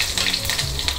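Mustard seeds crackle and splutter in hot oil while tempering for okra curry, a dense close sizzle with quick popping bursts throughout.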